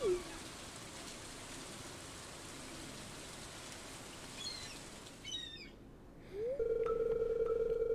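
Steady rainfall in the farming game Stardew Valley hisses in the background, joined near the end by brief chirps and a bright sustained electronic tone.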